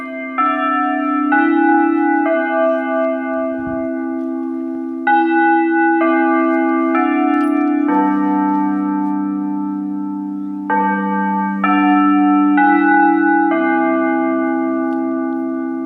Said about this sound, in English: That was the lunch bell.